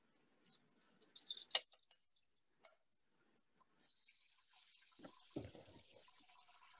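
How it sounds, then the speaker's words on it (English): Canned lentils rinsed in a strainer under a running kitchen tap, a soft steady stream of water rising in the second half, faint and close, preceded by a few light clicks and clinks. "But you wanna give any canned food a quick rinse."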